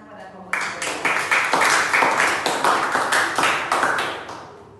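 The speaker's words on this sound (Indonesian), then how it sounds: "berikan tepuk tangan kepada kelompok 3." A classroom audience claps for a presenting student group, starting suddenly after a short quiet moment and continuing as loud, close, rhythmic applause in pulsing waves for several seconds.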